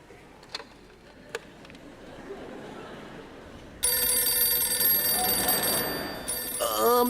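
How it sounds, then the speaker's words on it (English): Telephone ringing loudly with a bright, continuous electronic ring for several seconds, preceded by a few faint ticks and quiet background sounds in a concert setting. "The phone's ringing, lad."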